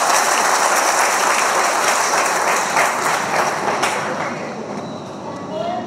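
Loud, vigorous applause from a crowd at a Dhamma Chakra Pravartan Day lecture gathering, sustained throughout and easing slightly toward the end.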